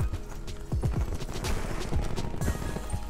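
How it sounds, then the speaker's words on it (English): Footsteps in Call of Duty Black Ops 4 land in a quick, close, thudding rhythm, sounding almost like hoofbeats, with a faint mechanical clatter and no talk. "I feel like I hear some extra footsteps."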